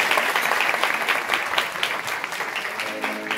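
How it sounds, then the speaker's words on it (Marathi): An audience claps loudly for a village bhajan group from Kothali at a Navratri devotional gathering, a dense, steady burst of many hands that holds its strength throughout. "त्यांच्यासाठी सर्वांनी एकदा जोरदार टाळ्या वाजवायचे"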